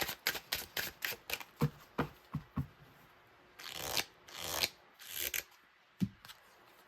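Tarot cards shuffled by hand, a quick run of crisp riffling slaps followed by longer sliding rasps and a final snap, close and fairly loud with no talking.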